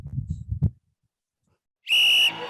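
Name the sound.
referee whistle blown for full time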